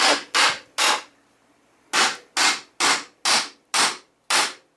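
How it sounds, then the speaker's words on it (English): A hammer strikes a carbide stud eight times with sharp, loud metal impacts. Three come first, then after a pause five more follow in an even rhythm. "Just give it a good little whack."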